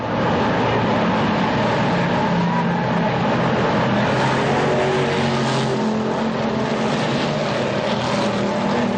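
Sportsman stock cars race around the Orange County Fair Speedway oval in a 100-lap enduro, a loud sustained engine roar that swells and shifts as the pack circles, with no talk.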